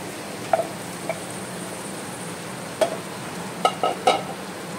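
Chicken pieces for a Kashmiri chicken masala fry in a pan as they are stirred, a low steady sizzle broken by occasional scraping clicks and clanks of the spoon against the pan.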